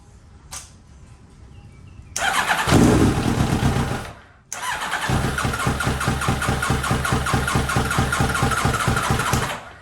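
A Kawasaki Ninja ZX7R motorcycle engine with a fuel delivery fault, cranking loudly from close by in two long bursts with a short gap between them, the starter churning rhythmically without the engine catching.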